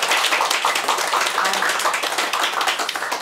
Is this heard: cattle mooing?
no